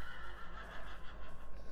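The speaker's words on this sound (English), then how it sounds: "I got a horse!" A horse neighs in a video game, a single loud close whinny that fills the short clip with no talk over it.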